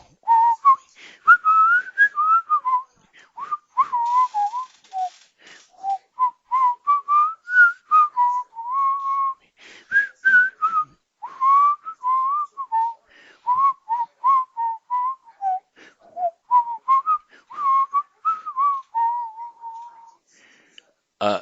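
A person whistles a wandering tune up close, in short phrases with brief pauses between them, clear and fairly loud.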